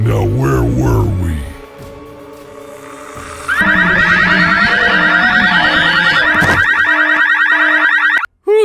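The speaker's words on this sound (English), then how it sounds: "Can you imagine if this prison only had one alarm?" A prison alarm in a cartoon parody of Venom: Let There Be Carnage begins ringing loudly after a brief voice, blaring as a rapid, continuous electronic pulse before cutting off abruptly.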